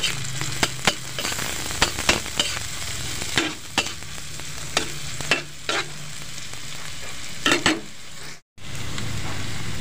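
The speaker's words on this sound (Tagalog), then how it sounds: "ilagay na rin natin yung bawang at sibuyas. Ito yung simpleng gisa-gisa lang." Ginger, garlic and onion sautéing in a pan for a Kapampangan catfish dish: a steady close sizzle runs throughout, with about a dozen sharp clicks as a utensil strikes the pan and a short silent break near the end.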